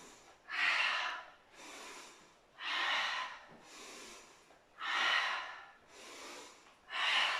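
Heavy rhythmic breathing during a beginner HIIT workout at home, four strong breaths alternating with softer ones at a steady pace, close and loud with no talking.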